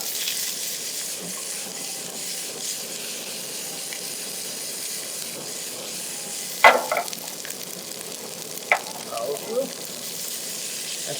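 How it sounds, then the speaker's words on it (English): Frozen store-bought food sautéing in a pan gives a steady, close sizzle and hiss throughout, broken by a few sharp clinks of a utensil near the middle and end. "I'm just going to saute them a little bit."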